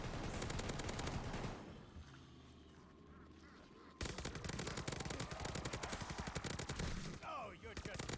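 Rapid gunfire from a double pack-a-punched weapon in the Call of Duty: Vanguard zombies mode, heard as dense bursts of fire with a brief lull in the middle before the shooting resumes.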